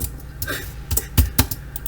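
Typing on a Mac-specific keyboard at a desk, a quick run of close, crisp key clicks with a couple of heavier strokes, heard alone.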